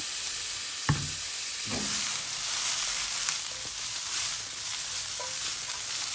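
Mushrooms frying in olive oil in a large pan, a steady close sizzle with a few soft knocks and stirring clatters, no talk.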